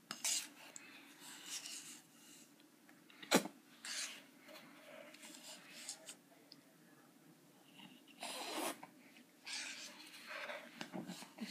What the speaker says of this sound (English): you have to mix it up and scoop it with the spoon.